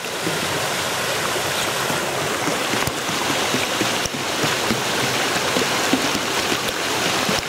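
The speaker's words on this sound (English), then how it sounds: "Can you hear the water flowing through there?" Gravity-fed water flowing through a pipe on an overgrown trail in Japan, picked up with a microphone pressed to the pipe, giving a constant dense rushing hiss with a couple of bumps.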